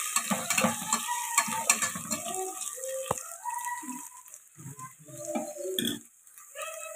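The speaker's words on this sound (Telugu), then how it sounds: "ఇది కూడా ఫ్రై చేసుకోండి. కలుపుకోండి." Toor dal fries in a pan while being stirred, giving a soft sizzle with scraping spoon strokes and a few sharp clinks against the pan, close and moderately loud.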